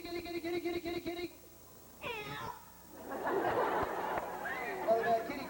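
A parrot mimics a cat at a 1989 Busch Gardens bird show, giving a short rising-and-falling meow after a voice. Crowd murmur and chatter swell afterward.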